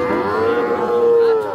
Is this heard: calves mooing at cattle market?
yes